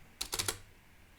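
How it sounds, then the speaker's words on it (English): A quick burst of four or five keystrokes on a computer keyboard at a Windows search prompt, crisp and close, then near silence before a faint final tap. "type SuperCollider"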